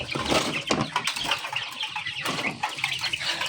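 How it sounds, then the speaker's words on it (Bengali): Chinese cross ducks let out of their pen, a busy stretch of close, irregular quacking and flapping wings with scuffling movement, lively and uneven throughout. "তো এখন আমি হাঁসগুলোকে ছাড়ব।"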